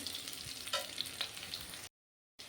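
Pumpkin pieces drop into a pan of well-fried onions, setting off a steady close sizzle with a few brief stirring scrapes, then a short dropout of silence before the frying resumes.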